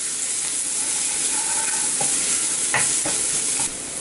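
Crushed garlic frying in hot oil in a home kitchen while being stirred, a constant bright sizzle broken by a few scraping stir strokes near the end, close and alone.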